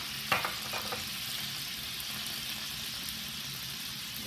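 Butter and olive oil sizzle in a pan while blackened salmon is being prepared, a steady, close crackling hiss that holds evenly throughout, with a couple of soft clinks near the start.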